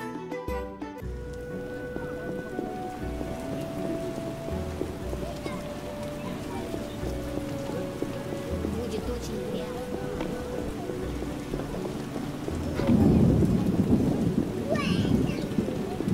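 Steady rain in the video game The Witcher hisses throughout with low rumbling and a soft musical backdrop, swelling louder near the end; a voice talks faintly underneath.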